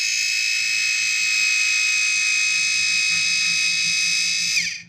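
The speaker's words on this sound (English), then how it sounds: "I can hear our alarm going off inside." A loud, continuous high-pitched electronic RV water sensor alarm sounds steadily inside an RV, with a faint low hum underneath, then cuts off abruptly at the end.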